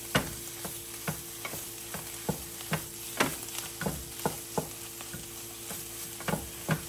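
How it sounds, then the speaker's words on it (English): Philly cheesesteak meat and melted cheese stirred and fried in a hot pan, a steady sizzle punctuated by regular scraping taps of a utensil against the pan, close and alone without speech. "Mix it all up like that stir fry again."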